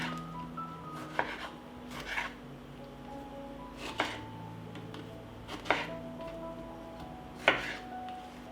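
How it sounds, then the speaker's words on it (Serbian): Bell peppers and tomatoes are cut into large chunks on a board, with a handful of sharp, evenly spaced knife chops over a quiet background and no talking. "iseckat ću 4 paprike na krupnije komade. Tako ću iseći i 4 paradajza."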